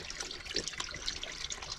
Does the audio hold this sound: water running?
yes